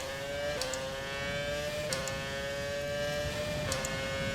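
High-revving Formula 1 car engine in the F1 2020 racing game at the China circuit, a steady whining tone with brief upshift dips roughly every one to two seconds, continuous and close.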